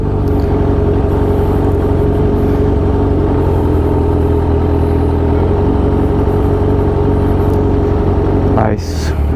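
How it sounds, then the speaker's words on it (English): A Kawasaki Ninja H2 motorcycle runs loud and steady at a bike meet in a parking lot, a dense continuous engine roar close by that holds throughout and dips briefly near the end. "usually I'm not that type of guy to just rev bomb a bike meet"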